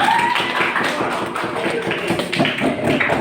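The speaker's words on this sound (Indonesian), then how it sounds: "Tepuk tangan untuk kelompok" Steady applause for a student group at a teacher performance assessment session, a dense room of clapping hands held at an even, fairly loud level throughout.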